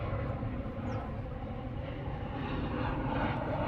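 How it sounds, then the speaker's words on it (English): Airplane passing overhead near Perth Airport, a faint distant engine rumble holding steady beneath park ambience, no speech. "plane going over"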